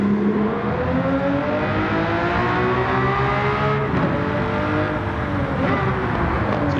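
A Lamborghini Countach 500S Walter Wolf Special on a Nordschleife lap, its engine droning loud and steady from inside the car, pitch rising and falling smoothly as it accelerates and eases off.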